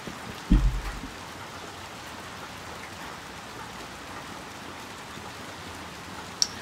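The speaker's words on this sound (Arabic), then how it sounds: "زي ما تشوفوا المطر صار اغزر من قبل" Heavy rain in the video game Little Nightmares 2, a steady even wash of falling rain with a brief low thud near the start and a faint tick near the end, no talking.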